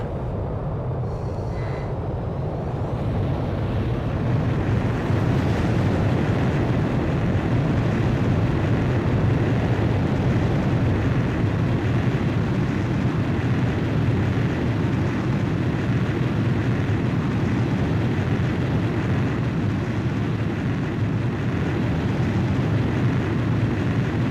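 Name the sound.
fighter jet catapult takeoff from carrier, Ace Combat 5 video game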